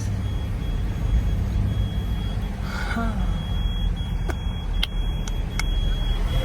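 Busy crowded parking area full of vehicles, with a constant low engine rumble, a faint rising tone and a few sharp beeps or clicks near the end, close and steady.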